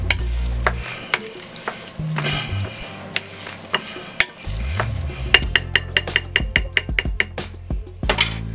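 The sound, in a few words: mixing meatloaf mixture by hand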